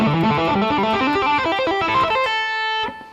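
Rapid electric guitar finger-tapping lick, a fast cascade of bright distorted notes that ends on a sustained ringing note before cutting off, played alone without talk.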